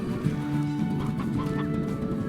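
Hens cluck in the Slime Rancher video game, a steady close run of short cackling notes over a constant droning game ambience, with no one talking.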